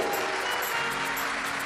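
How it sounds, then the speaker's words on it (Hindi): An audience claps loudly for a child at a Shiv Mahapuran religious discourse, a dense, steady wash of applause filling the space with no pauses. "एक बार इस बच्चे के लिए जोरदार ताली बजाओ"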